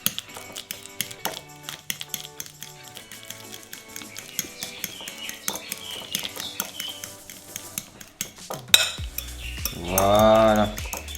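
Cutlery scrapes and clinks against a bowl while food is worked into a mash, a run of irregular metallic taps and scrapes, close and fairly quiet, ending in a louder clattering stir.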